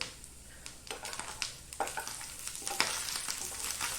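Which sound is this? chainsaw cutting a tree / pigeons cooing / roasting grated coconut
roasting grated coconut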